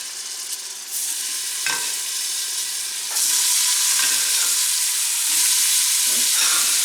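Ground beef frying in a tablespoon of olive oil in a pot for vegetable soup: a steady, loud sizzle that swells as more meat goes in, with a few stirring scrapes and no voices.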